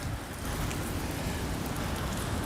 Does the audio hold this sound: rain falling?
yes